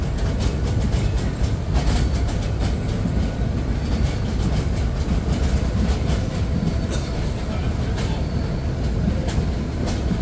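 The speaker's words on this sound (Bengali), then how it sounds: "ফেনী জংশনেই দেখা হলো চট্টগ্রাম থেকে ছেড়ে আসা ঢাকাগামী আন্তনগর চট্টলা এক্সপ্রেস এর সাথে" The Dhaka-bound intercity Chattala Express from Chattogram at Feni Junction, a loud continuous train roar with rhythmic wheel clatter and faint squeals, close by and steady for the whole stretch.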